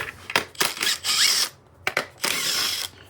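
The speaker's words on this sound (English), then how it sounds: "Power tools." A power tool whirs in short bursts during a 5.3-litre engine teardown, starting and stopping several times with brief pauses between runs, close and fairly loud.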